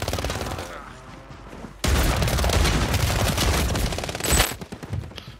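Gunfire in the video game Warzone 3, a loud, dense burst of close shots after a quieter opening, ending with a sharper blast before fading.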